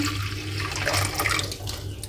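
Tap water runs into and rinses out a thermos bottle, a close, steady splashing flow that holds without pause for the whole stretch.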